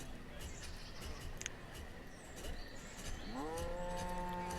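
Cattle in the village-building game Banished give a clear low moo near the end, rising out of a busy ambient bed of farm and village sounds.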